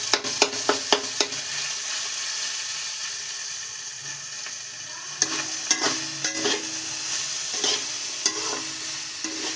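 Panch phoron spices and ginger stir-frying in a pan, a soft continuous sizzle broken by sharp metallic clinks and scrapes of a spatula against the pan, close and without any voices.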